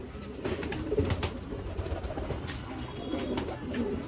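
A baby pigeon, kept and hand-fed at home, gives soft cooing calls over a steady background hiss. The calls are faint and close, and no one speaks.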